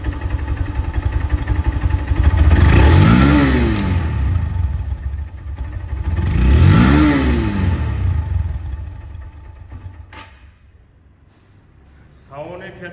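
A used Honda Hornet motorcycle engine revs twice, loud and close, each rev swelling and falling back, then drops to a low idle before a brief final blip at the end.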